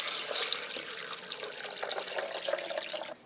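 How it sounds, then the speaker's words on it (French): A litre of clear water poured over soaked almonds in a blender jar, a steady rushing splash that holds for about three seconds and then cuts off abruptly. "On ajoute 1 litre d'eau claire."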